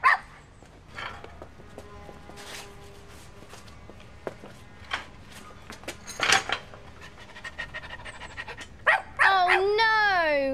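Cartoon dog barking and panting near a café in a children's animated show, a string of short, loud yaps and whimpers over quiet background music, ending in a bright wavering tone.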